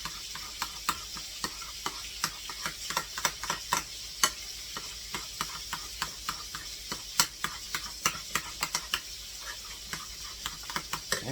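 Tartar sauce being stirred with dill relish in a bowl, giving a steady run of close, sharp clicks and scrapes from the utensil against the bowl with a soft background hiss.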